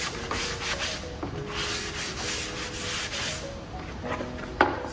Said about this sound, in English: Just sand that away. Make it kind of nice and smooth.